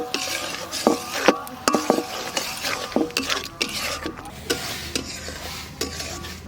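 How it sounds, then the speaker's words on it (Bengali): Spinach paste is stirred into a palak paneer gravy over low heat, a utensil scraping the pan in a steady series of close, crisp strokes with a light sizzle underneath. "এটা হালকা জালে আস্তে আস্তে নেড়ে নেড়ে এটাকে একটু শুকনো শুকনো করতে হবে"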